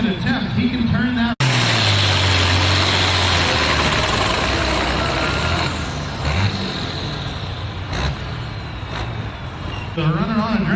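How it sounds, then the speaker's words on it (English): A pulling tractor at a county fair tractor pull roars loudly under load, its engine revving hard as the turbocharger spools, a sustained heavy drone that eases slightly midway, with a commentator talking over it. "that tractor really pulled on RPMs, got underneath the turbocharger"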